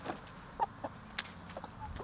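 Hens in a movable chicken tractor cluck in short, scattered bursts, a few soft calls spread over two seconds against a quiet outdoor background.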